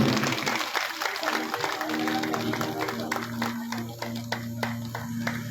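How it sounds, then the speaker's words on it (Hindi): Crowd at a religious discourse claps in a burst of applause, many sharp hand claps rising and thinning, heard against a sustained musical drone with some voices. "जोरदार ताली बजनी चाहिए आपको।"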